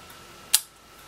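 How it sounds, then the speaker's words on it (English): A single sharp mechanical click of a 1948 Komsomolets Russian twin-lens reflex camera shutter firing at 1/100 second, close and crisp, standing alone against a quiet room. "This is the 100 shutter speed."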